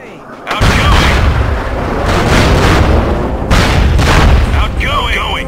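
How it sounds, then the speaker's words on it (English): Grenade explosions in the video game SOCOM II: heavy, loud booms, one after another, roll out with long rumbling tails, and a shouted in-game voice can be heard. "Outgoing! Grenade away! Outgoing!"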